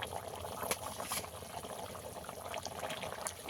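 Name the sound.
fish curry broth boiling in a pan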